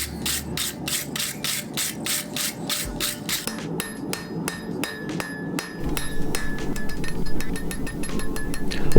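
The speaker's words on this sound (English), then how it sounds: "so we're just going to hammer those out and get all the scale off." Repeated sharp metallic hammer strikes on a steel railroad spike, knocking off scale, close and loud, in a steady rhythm with brief pauses, ringing over a background hum.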